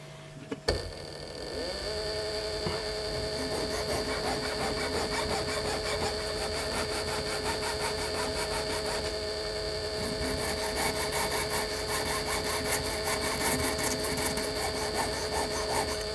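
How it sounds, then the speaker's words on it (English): A coarse file works a pivot on a torsion clock anchor arbor, giving a continuous scraping rasp under a steady whining tone from a turning lathe, close and sustained for about fifteen seconds without talk. "It's a slightly coarser file."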